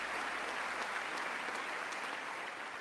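An audience applauds steadily in a large hall as a senator in the front row stands, a dense continuous clapping at a fair distance with no talk over it.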